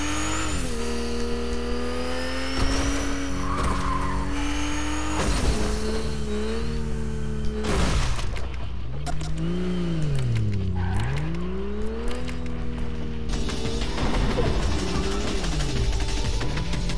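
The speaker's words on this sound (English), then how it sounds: "What kind of car is this?" A car driving in Fortnite: a loud engine revs up and down in steady sweeping pitch, with sharp tire skids and brief bumps breaking through the constant motor drone.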